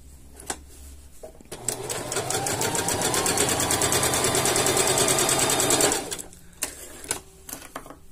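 An industrial sewing machine runs a load seam through steel-blue denim in one steady, loud burst of rapid stitching, starting after a few clicks and stopping abruptly, with handling noises on either side.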